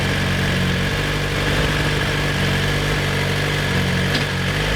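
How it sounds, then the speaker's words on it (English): A 2017 Suzuki GSX-R1000R sport bike engine running steadily close by, a loud continuous mechanical drone with no speech. "The real test is, will it start when I drop it into first gear?"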